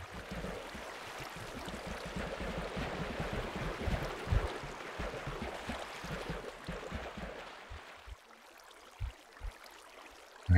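Rushing water flushes harvested mushrooms down a farm channel in Minecraft, a steady loud wash for about eight seconds that then drops away, leaving only a few faint thumps.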